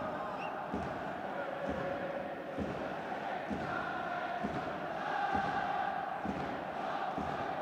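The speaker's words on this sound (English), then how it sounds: "Once again, the crowd raise their voices, trying to inspire their teams" A football stadium crowd at a continental club match rumbles steadily, voices rising and falling in a broad, distant roar, with a commentator talking over it.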